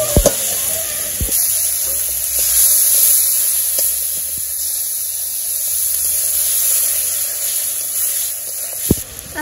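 Turmeric and chili powder fry in oil in a village kitchen, giving a steady, moderately loud sizzling hiss with a few sharp clicks and scrapes from stirring.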